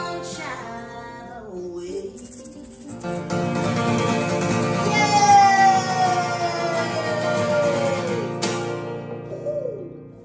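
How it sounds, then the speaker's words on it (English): A fire truck siren wails on a quiet, rainy night, its rising and falling tone loud and sustained for several seconds before cutting off, then fading with a brief lingering wail. "And the fire truck goes off."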